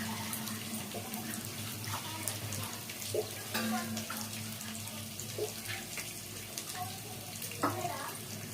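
Water runs steadily into a pot of rice for biryani, a soft continuous gush at moderate volume, with occasional clinks and faint speech in the background.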